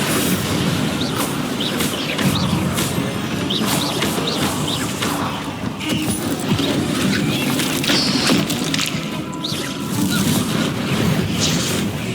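Repeated explosive blasts from the Confringo fire spell in Hogwarts Legacy, a dense, loud rumbling barrage of booms and crackles that runs steadily throughout with brief chirping effects on top.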